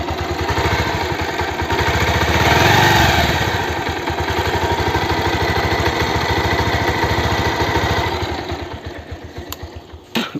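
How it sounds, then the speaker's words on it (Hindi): A used motorcycle's engine runs steadily close by with a rapid, even idle throb that briefly swells around the third second, then settles and tapers near the end. "और इसकी इंजन की जो आवाज़ होगी उसमें देखें आप"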